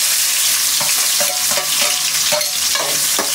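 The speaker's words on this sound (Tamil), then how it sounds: "இப்ப தாளிக்க போறோம் பாருங்க" Steady frying sizzle as chopped shallots are tempered in a large pan, with a spoon or spatula scraping and stirring, repeated clinks and scrapes at an uneven rhythm.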